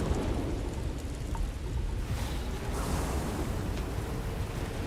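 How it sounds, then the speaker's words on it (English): Steady roar of rain and wind in a freezing liquid thunderstorm on an alien planet in Starfield, a dense continuous wash with faint rumbling underneath and no distinct thunderclaps standing out. "Freezing liquid thunderstorm."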